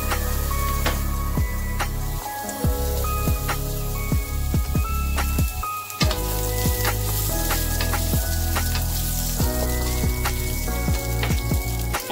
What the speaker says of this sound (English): we're gonna start to preheat our pan and just put a little bit of oil into the pan